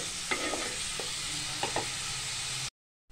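Onion frying in oil for chicken keema, a steady close sizzle with a few light stirring scrapes, continuous until it cuts off abruptly near the end.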